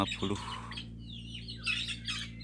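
Three geese, one gander and two females, squawking nearby in short bursts with a steady low hum underneath.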